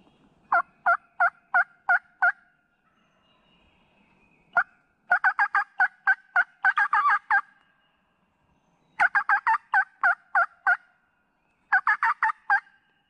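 A wild turkey gobbler gobbling in springtime, repeating in bursts of rapid rattling gobbles separated by short pauses, loud and fairly close with no talk over it.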